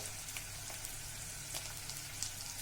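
Onions sizzle and crackle in a hot pan with salt added, a steady quiet frying hiss with scattered small pops, close and alone, while cooking a spicy stuffed brinjal curry.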